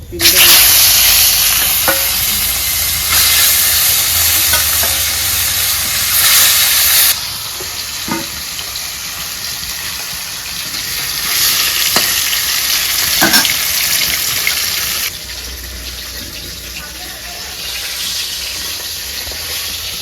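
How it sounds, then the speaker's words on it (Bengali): Whole fish sizzling in hot oil in a home kitchen pan, a loud steady frying hiss with spatula stirs and scrapes, easing quieter partway through. "এই যে পুরো মাছ ভাজা হয়ে গেছে"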